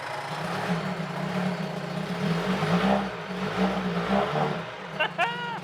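A 1975 Johnson 25 HP outboard motor runs close by, a steady throbbing drone with slight rises in revs, ending with a few sharp squeaky metallic chirps.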